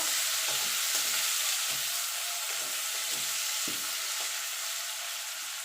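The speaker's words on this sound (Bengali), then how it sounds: "পেঁয়াজটাকে একটু ভাজা ভাজা করে নেব।" Chopped onions fry in a pan in a steady, close sizzle, with soft scraping as they are stirred.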